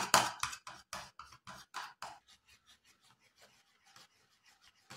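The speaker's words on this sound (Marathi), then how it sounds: "जोपर्यंत थोडंसं घट्टसर होत नाही तोपर्यंत आपल्याला हे चमच्याने ढवळायचं आहे" A spoon stirs and scrapes homemade skin-brightening cream in a bowl, a run of rhythmic raspy strokes, close and fairly loud at first, then quieter, lighter scrapes continuing to the end.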